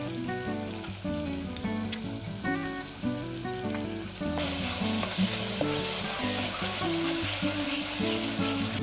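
Onions sautéing in hot oil for a Chettinad chicken biryani, a dense crackling sizzle that swells louder midway, with steady stirring and no voices.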